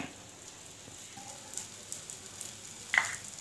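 A chapati cooking in a little oil on a griddle gives a soft, steady sizzle with a few faint taps, and a brief louder scrape near the end.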